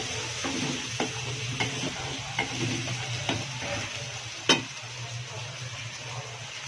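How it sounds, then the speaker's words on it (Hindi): Red tomatoes and salt roast in a pan for an aloo gobhi handi, a soft steady sizzle broken by a spoon's periodic stirring scrapes and one sharp clack near the end. "लाल टमाटर। अच्छी तरह भुनाई करेंगे।"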